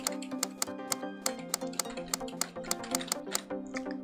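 Rapid, fairly regular computer clicks tick along over a steady tonal music bed, each click sharp and close, about a dozen across the stretch with no talking.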